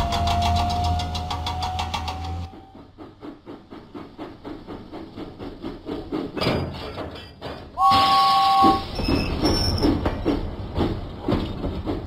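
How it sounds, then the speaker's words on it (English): A puffing steam locomotive from a Thomas & Friends video game chuffs steadily and loudly after a rumbling start, with a bright whistle-like tone partway through and game sounds layered over it. "James pumped his pistons and puffed out of the docks."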